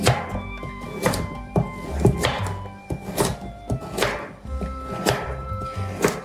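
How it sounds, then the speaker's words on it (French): A knife chops carrots into small pieces on a board, with steady, fairly quick and loud thunking strokes in a regular rhythm, heard alone. "Je vais les détailler en petits morceaux comme ça."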